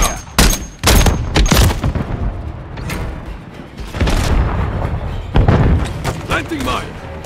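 Gunfire and explosions in Call of Duty MW3: loud bursts and heavy booms in irregular clusters, some close and some farther off, mixed with game radio voices speaking.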